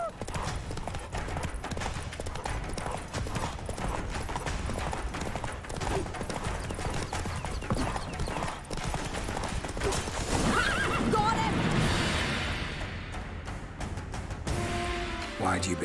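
Roach the horse gallops with steady clip-clop hoofbeats and lets out whinnies in The Witcher 3, all under a dense game music score with a swell near the end.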